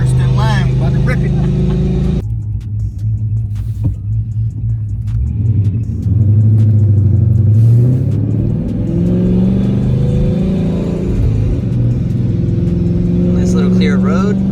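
A turbocharged C5 car engine revs and accelerates hard on an open road, a loud close rumbling roar that climbs through gears, with a voice speaking over it.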